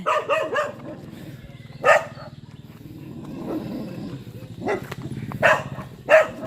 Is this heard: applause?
no